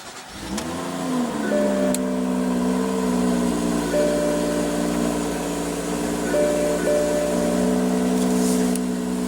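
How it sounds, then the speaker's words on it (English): A 2014 BMW X5 with a 3.0 L turbocharged inline-six cranks and fires, briefly flares, then settles into a smooth, steady idle heard from inside the cabin, with a couple of faint clicks. "Just put your foot on the brake, hit the button to start."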